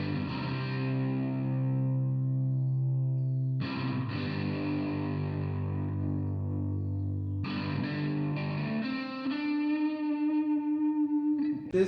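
Distorted electric guitar through high-output Alnico pickups on a Schecter C-1 E/A, playing three sustained ringing chords that each decay, followed by a quicker trembling note, with no voice.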